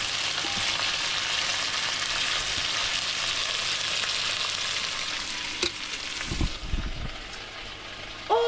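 Pieces browning in a pan for a one-pot casserole cooked in a motorhome, giving a steady, loud sizzle throughout, with a few soft clanks and stirring scrapes toward the end.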